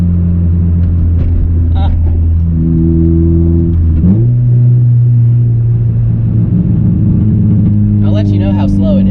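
A car pulls hard in second gear. The engine note rises steadily, drops at a shift, then drones on loud and close inside the cabin, with a short spoken exclamation near the start.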